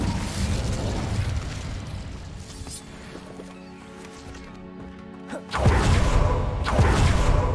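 A fire spell cast in a wizarding video game, a loud whooshing, crackling magical burst with flaring and booming, sustained roar across the clip and a second strong surge near the end, no talk.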